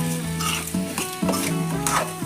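Eggplant and fried onion curry for a North Karnataka-style palya stirred in oil in a pan, a steady sizzle under repeated scraping strokes of a spoon, with background music or tones running through and no talk.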